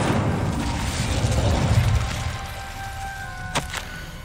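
Incendio fire spell cast in the Hogwarts Legacy video game, a deep rushing boom that swells and fades, followed by a couple of brief sharp flares near the end.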